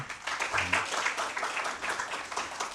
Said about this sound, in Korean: 다시 한번 짧은 시간임에도 불구하고 좋은 의견들을 발표해 주신 구성원 대표님들께 큰 박수 한번 부탁드리겠습니다.